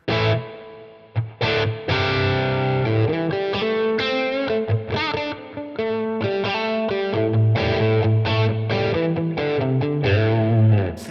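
Electric guitar through a Tonex amp model inside Amplitube 5 with reverb engaged, playing a continuous run of distorted chords and single notes with a wet, lingering tail, steady and loud throughout.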